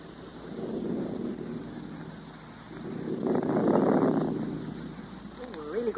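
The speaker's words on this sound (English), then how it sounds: "We're really going to have that thunderstorm." A thunderstorm sound effect in a 1939 radio drama, heard as two swelling low rumbles of thunder, each rising and fading over a few seconds, moderately loud with no voices over them.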